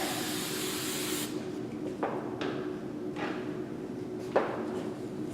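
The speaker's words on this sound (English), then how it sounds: "Now I'm going to spray the whole bottom of the hair." Hairspray misted over the underside of a bride's high bun updo, a loud steady hiss that runs alone for over a second before cutting off, followed by a few faint clicks and taps.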